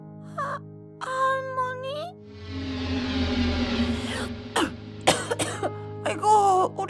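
An older woman coughs and clears her throat several times in rough, strained bursts, with a moan-like voice between them and a low hum behind.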